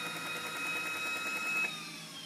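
A Behotec 180 heater burner runs with its motor slowing: a steady, faint mechanical whir with a thin high whine that slides downward as the speed drops, with no voices.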